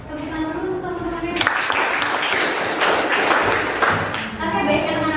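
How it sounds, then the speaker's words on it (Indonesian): Students in a classroom break into applause, a dense burst of clapping rising sharply after speech and lasting about three seconds before talk resumes. "Tepuk tangan dulu teman-teman."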